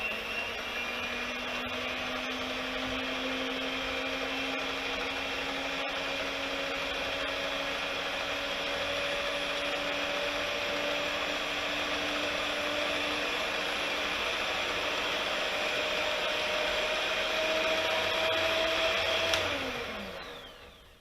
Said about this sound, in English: First thing we're going to do is we're going to whisk these 4 eggs.